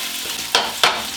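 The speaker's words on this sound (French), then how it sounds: "L'huile est chaude, échalote comme ça." Shallots dropped into hot peanut oil for a chicken biryani give two sharp bursts of sizzling. Each burst rises suddenly, then settles into a steady frying hiss up close, with no voices.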